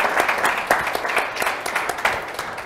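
Applause from an audience thanking panelists at a Federalist Society policy event on federal permitting reform, a steady patter of many hands clapping for a few seconds, moderately loud and even.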